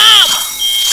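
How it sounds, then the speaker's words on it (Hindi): A shrill electronic danger alarm in an animated Nagraj scene blares close and loud, its tone sweeping at the start before settling into a harsh, buzzing wail for about a second. "इंचार्ज ने खतरे का अलार्म शीघ्रता से खींच दिया।"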